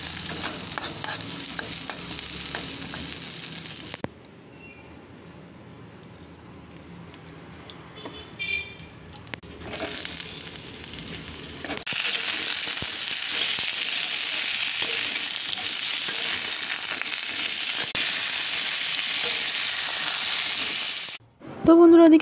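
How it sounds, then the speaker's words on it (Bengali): Pointed gourd pieces frying in a wok give a steady sizzle with occasional stirring scrapes, broken by a quieter muffled stretch before the frying noise returns loud and close. "ওদিকে পটলগুলো কড়াইতে ভাজতে দিয়ে আমি চলে এসেছি"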